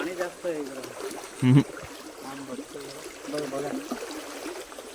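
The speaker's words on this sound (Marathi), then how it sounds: "इकडे पाणी भरपूर आहे आणि वाहत आहे" A stream flows steadily nearby as a soft, continuous wash of water on a walk out to catch crabs. People talk over it throughout, and one brief louder knock comes midway.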